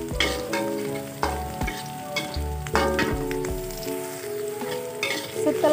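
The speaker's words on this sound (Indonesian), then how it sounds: "Kita tumis sampai benar-benar si bawang prinya wangi" Sliced leeks sauté in a pan for a soup of sponge gourd, giving a loud, dense sizzle. Frequent clattering scrapes from a utensil stirring against the pan run through it. No voices.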